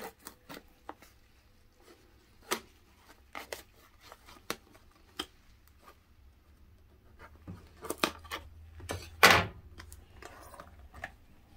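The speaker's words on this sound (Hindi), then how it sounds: "हम इनको खोलते हैं डब्बे को" A box of Chakwal pehalwan rewari sweets is opened in a quiet room, giving scattered soft clicks and rustles, then a louder crinkle and tear of packaging near the end.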